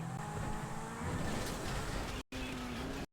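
A car races in the video game GTA 5 during a stunt race, its loud engine droning and shifting pitch with tyre noise, cut by two brief dropouts near the end.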